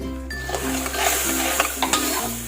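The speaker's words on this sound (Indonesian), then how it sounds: "Kita masak sampai seperti karamel ya Bunda" Spicy-sweet dumpling sauce with salt, chili powder, stock and tamarind water is stirred in a pan and cooked down to caramel, with a steady close sizzle broken by scraping stirs.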